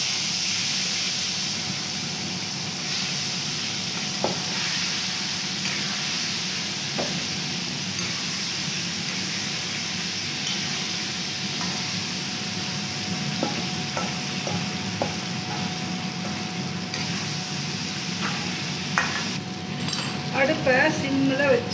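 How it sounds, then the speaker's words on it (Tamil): Mustard seeds sizzling in hot oil in a pan on the stove for a South Indian kuzhambu, a steady close frying hiss with scraping stirs and small pops near the end, while a voice talks at times. "எண்ணெய் காஞ்செடுத்து கடுகு மட்டும் போட்ட"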